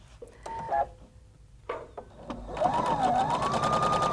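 A Husqvarna Viking Designer Brilliance 80 sewing machine starts with brief beeps and short whirs, then runs into a steady, fast mechanical stitching buzz, close and clear with no talking.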